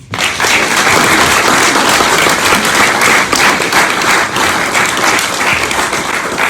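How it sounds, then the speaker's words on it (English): A crowd bursts into loud, dense applause for trade unionist Mick Lynch, former RMT Secretary General, the clapping sustained and even from start to finish with no talk over it. "a big round of applause for Mick Lynch"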